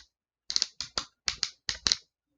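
Plastic joints of a Classics Voyager Megatron toy figure clicking through rapid ratcheting bursts, about seven sharp, close clacks in quick pairs, with no talk.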